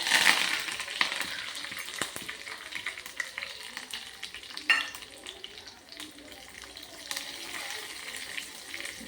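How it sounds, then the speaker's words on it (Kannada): Red chilies, curry leaves and mustard seeds hit hot oil as a tempering for a cucumber curry, giving close, crackling spatter with scattered sharp pops and stirring scrapes. "ಅದಕ್ಕೆ ಇಲ್ಲಿ 3 ಕೆಂಪು ಮೆಣಸು, ಸ್ವಲ್ಪ ಒಗ್ಗರಣೆ ಸೊಪ್ಪು, ಸ್ವಲ್ಪ ಸಾಸಿವೆ, ಇದನ್ನು ಹಾಕಿ ಒಗ್ಗರಣೆ ಮಾಡುವ."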